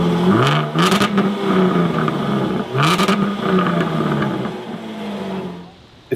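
A Jaguar F-Type revs twice, each time sweeping up in pitch with a loud raw exhaust bark before settling. The exhaust then fades to a low idle burble that quiets near the end.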